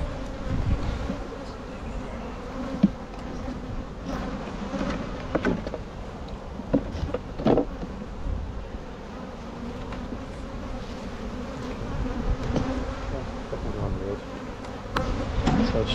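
Honey bees drone continuously around a brood frame at a hive, a dense close buzzing swarm with small bursts of rustling and knocks.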